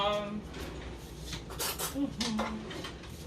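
A fork poking holes all over a potato in a home kitchen makes a run of close, sharp clicks and scrapes against a plate, with faint tonal ringing.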